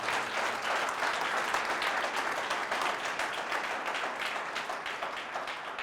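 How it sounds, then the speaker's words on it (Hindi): Loud, sustained applause from a church audience praising the Lord at a worship service, dense steady clapping filling the whole stretch without a break. "जोर से ताली बजाएंगे प्रभु को"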